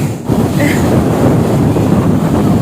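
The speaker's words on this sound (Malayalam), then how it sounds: "ഭയങ്കര കാറ്റടിക്കുന്നുണ്ട്" Strong wind roaring and buffeting the microphone on a boat out on the water, a low, heavy rumble, loud and unbroken, with a faint wash of water beneath.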